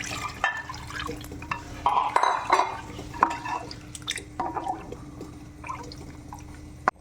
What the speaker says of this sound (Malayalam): ഇതിലേക്ക് മൂന്ന് കപ്പ് രണ്ടാം പാൽ ഒഴിക്കുക